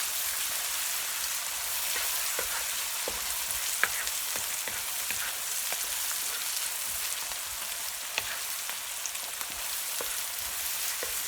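Garlic and ginger fry with onions in a pan for curry, a steady close hissing sizzle with scattered small crackles and pops throughout.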